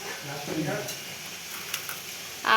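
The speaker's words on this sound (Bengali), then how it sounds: "চিকেন রান্না হচ্ছে" Chicken frying and sizzling in a pan in a home kitchen, a steady crackling hiss with occasional stirring scrapes, heard under quiet talk.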